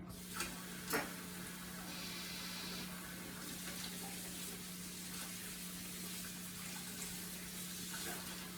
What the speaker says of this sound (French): Je lave les mains.